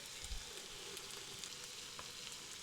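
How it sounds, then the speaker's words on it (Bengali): Ginger and garlic fry quietly in a pan, a faint, even sizzle with a soft low knock near the start and no talking. "আদা রসুনটি কিছুক্ষণ ভেজে নেওয়ার পর"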